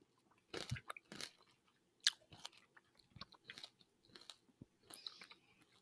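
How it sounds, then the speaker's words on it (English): Hard Haw Flakes candy being bitten and chewed up close, with a run of sharp, distinct crunches spaced irregularly across several seconds, loud against a quiet background. "that was a solid crunch"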